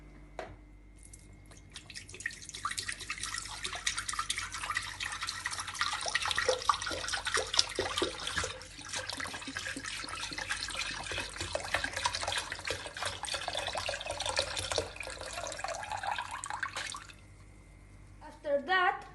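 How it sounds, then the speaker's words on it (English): A liter of milk pours steadily into a Thermomix bowl, a continuous splashing, trickling liquid stream lasting most of the clip before stopping, with a few brief clunks at the end. "Then we add in this Thermomix recipient a liter of half of"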